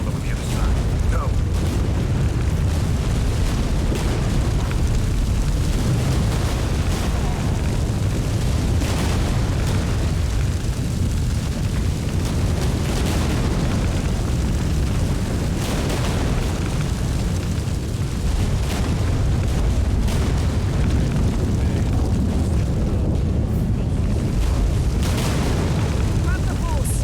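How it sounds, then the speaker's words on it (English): Deep continuous rumbling with repeated heavy booms during an earthquake in The Witcher 3 video game, loud and sustained throughout, mixed with game music and effects, with voices speaking at times. "An earthquake."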